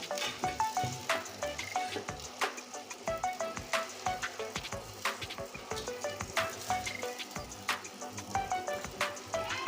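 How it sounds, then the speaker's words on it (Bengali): Slices of bitter gourd frying in hot oil in a pan, a steady close crackling sizzle with dense popping and spattering throughout, fairly loud and continuous with no talk over it. "দেখুন কতটা সুন্দর করে আমি লাল লাল করে ভেজে নিয়েছি এখন আমি তুলে নিচ্ছি করলাগুলো"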